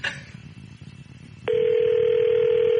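A telephone dial tone on a radio show's call-in line switches on halfway through, a steady, loud, continuous hum that holds to the end after a brief click and some quiet background noise.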